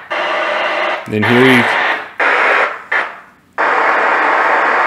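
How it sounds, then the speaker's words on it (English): Loud steady test tones from an Onkyo TX-RZ830 9-channel Atmos receiver running level calibration, a continuous hiss-like tone cut into several bursts with short gaps, briefly interrupted by someone speaking. "You're gonna hear some loud tones."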